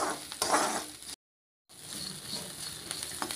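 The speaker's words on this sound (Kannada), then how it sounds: "ಸ್ವಲ್ಪ ಎಣ್ಣೆ ಹಾಕ್ಕೊಂಡು ಬಾಣಲಿಗೆ ಜೀರಿಗೆ, ಮೆಣಸು, ಈರುಳ್ಳಿ, ಬೆಳ್ಳುಳ್ಳಿ ಹಾಕಿ ಸ್ವಲ್ಪ ಫ್ರೈ ಮಾಡ್ಕೊಂಬಿಡೋಣ" Cumin, pepper, onion and garlic frying in a little oil in a pan, giving a steady close sizzle with a brief silent gap midway, no voices.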